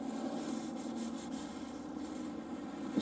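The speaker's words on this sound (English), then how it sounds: "Just cleaning the silicone off here." Steady, close rubbing and scraping comes from silicone being cleaned off a TV aerial mounted on a van roof during a van conversion, continuous without pause.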